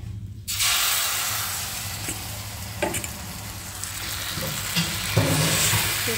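Pitha batter frying in a hot pan, a loud steady sizzle that bursts in after a short quiet start, with occasional soft clinks and scrapes.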